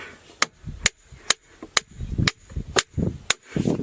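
A hammer strikes an iron anvil floating in mercury, eight sharp metallic clinks at a steady pace, close and fairly loud, with softer thuds and handling noise between blows.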